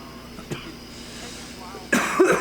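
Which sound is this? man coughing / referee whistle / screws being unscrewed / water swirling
man coughing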